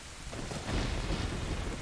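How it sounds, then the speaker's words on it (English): Stormy rain with rolling thunder in the video game The Legend of Zelda: Ocarina of Time, a dense steady wash that swells louder partway through, with low rumbling underneath and no talk. "Rain seems to be picking up, the thunder seems to be coming around."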